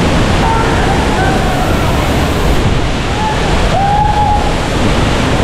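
Steady broad rush of a tall waterfall at Kolhapur, a dense continuous wash of falling water heard close and loud throughout, with no break in the roar.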